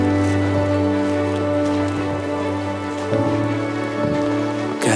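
Steady rain falls on a winter trek toward Churdhar, mixed with low constant tones of some engine or hum running through it and no talking.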